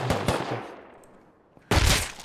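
Gunfire in a video game: a quick burst of loud close shots, then a fading tail and near silence, before another sharp burst breaks in.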